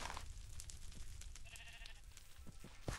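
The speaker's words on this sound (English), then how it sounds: "Mr. Sheep, you better not go in there, Mr. Sheep." A sheep in a Minecraft-style game world gives a short, quiet bleat midway, under faint background noise.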